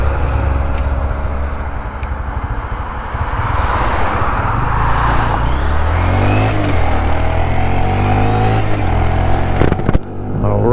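A 2022 Honda Grom motorcycle rides in traffic at about 45 mph, its small engine droning steadily and loud up close with wind rush, shifting pitch as it accelerates.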